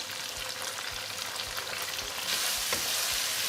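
Mapo tofu with spring onions stir-frying in a wok, a steady close sizzle with rhythmic tossing scrapes about every half second, swelling louder toward the end.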